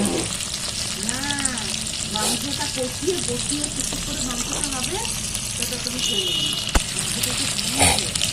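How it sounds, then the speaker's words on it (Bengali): Onions frying crisp for beresta in a pan at an outdoor village-style picnic cookout, a steady close sizzle running throughout with stirring clatter and voices talking over it. "একবার পেঁয়াজে বেরেস্তাটা করে উঠবো।"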